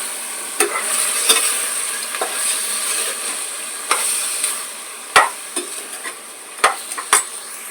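Goat head meat is stirred with turmeric in a hot pan, producing a steady sizzle punctuated by sharp scraping and clanking strokes of a spoon against the metal, close and fairly loud, several strokes in irregular rhythm.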